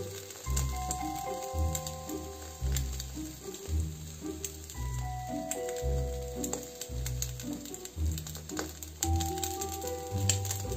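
Sausages frying in a pan with cheese and tomato for a lavash breakfast, a steady close sizzle and crackle running throughout while soft music plays underneath.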